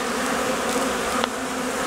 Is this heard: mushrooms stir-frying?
no